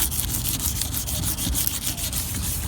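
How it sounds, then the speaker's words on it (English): Plastic trim on a Ford F-250 pickup being scuffed by hand before painting, giving a steady, close, loud rubbing and abrading sound in quick repeated strokes with no talk. "I'm gonna scuff it."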